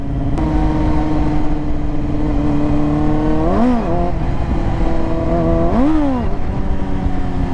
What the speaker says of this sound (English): I think my clutch is slipping, man. Definitely slipping.